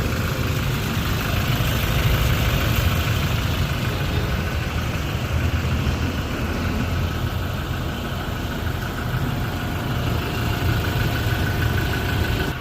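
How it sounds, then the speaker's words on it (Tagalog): A Toyota Innova 2.8 diesel engine idles close by, a continuous low rumble with an even mechanical hum and no voices. "napakatahimik ng makina ni boss, kasi alaga sa chain oil"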